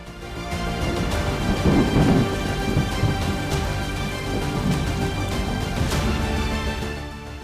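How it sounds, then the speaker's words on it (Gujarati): Heavy flood-season rain falls in Maharashtra under rolling thunder, a loud continuous roar of downpour with deep rumbles swelling and fading throughout, no voices. "મહારાષ્ટ્રના અનેક જિલ્લામાં હાલ વરસાદ વરસી રહ્યો છે"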